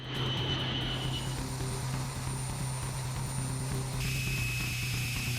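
Steady, loud drone of B-52 Stratofortress turbofan engines (TF33 high-bypass), a continuous low roar with sustained high whining tones that shift slightly partway through, no voices.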